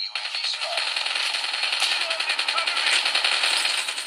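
Rapid automatic gunfire from a shooter video game rattles on without a break, loud and close, with a voice faintly underneath.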